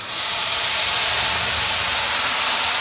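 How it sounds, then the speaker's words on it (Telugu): Curry leaves and spices frying in a pan for an egg kurma, giving a loud, steady sizzling hiss throughout with no talking. "కొద్దిగా కరింపాకు, వేసుకొని బాగా వేయించుకోవాలి."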